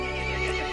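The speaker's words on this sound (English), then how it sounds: "The horse grew angry and summoned the other monsters." A horse neighs in a dark fantasy horror game, a short sustained whinny with a harmonic, strained tone laid over a steady ambient bed, close and fairly loud.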